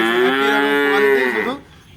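A single loud, drawn-out cow moo, close by, with rich low harmonics, fading out near the end into quiet background.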